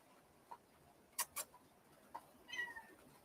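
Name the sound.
cat meowing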